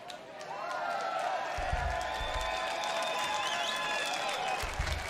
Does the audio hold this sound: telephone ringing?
no